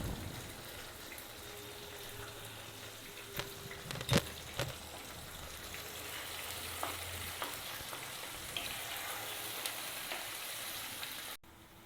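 Ginger and garlic paste frying with black chicken in a pan gives a soft, steady sizzle, with a few light clanks of a utensil against the pan.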